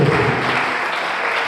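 A church congregation applauding loudly for the Holy Spirit during a sermon, dense continuous clapping with crowd noise, close and sustained for the whole moment.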